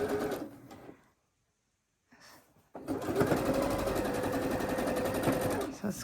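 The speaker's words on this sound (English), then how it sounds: "And now I'm just going to sew them all up." A sewing machine stitches quilt block pieces together in a short burst, stops for a pause, then starts again and runs loud and steady as a continuous mechanical whir.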